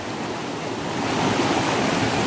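A small river stream in a village flows with a continuous rushing wash that swells slightly and stays even, with no voices.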